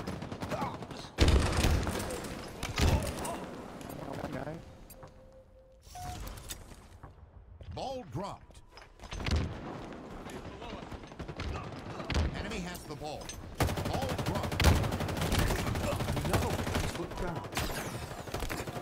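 Gunfire from a Halo Infinite multiplayer match, with rapid bursts and sharp shots coming in loud waves alongside mechanical clicks and thuds, while a player talks over parts of it.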